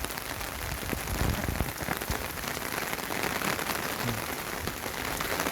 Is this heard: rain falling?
yes